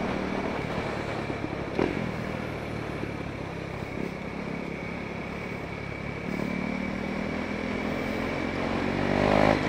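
Motorcycles ride along a road at night, their engines droning steadily and close with some clatter, rising toward a louder revving surge at the end.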